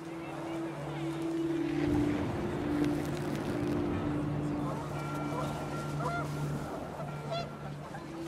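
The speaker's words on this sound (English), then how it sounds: "panicked geese appeared and quickly went" Panicked geese honk in the game What Remains of Edith Finch, their calls rising over a windy outdoor scene with a steady low drone and background music, continuing for several seconds.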